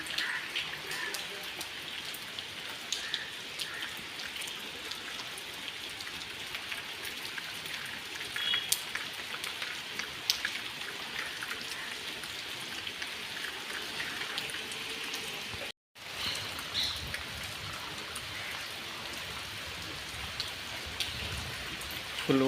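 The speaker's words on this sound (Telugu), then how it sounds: "ఫుల్ వర్షం" Heavy rain pours steadily on a village, a dense, even hiss of drops that runs unbroken apart from a momentary cutout, with no clear voices over it.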